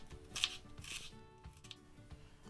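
An onion diced into cubes with a knife on a cutting board: a few quick chopping strokes at a moderate pace, fairly faint, with no talk.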